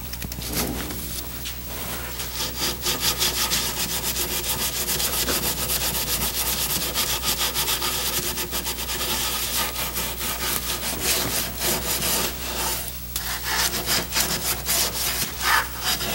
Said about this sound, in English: I'll use a nylon brush to clean these carvings.